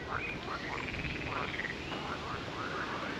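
A chorus of frogs croaking loudly outdoors near Kruszwica and Strzelno in Poland, with repeated rippling calls overlapping in a steady, close-sounding din and no voices.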